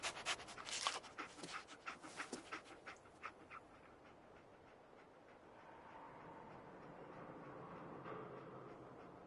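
Dogmeat the dog from Fallout 4 pants in quick, rhythmic breaths close by, strongest at the start and fading after a few seconds into a low game ambience.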